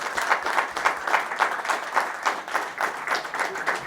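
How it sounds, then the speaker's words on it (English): Audience applause at an insurance panel discussion event, a steady wash of many hands clapping with a fairly even rhythm, sustained for a few seconds at moderate loudness. "Can the audience give them a round of applause for the excellent?"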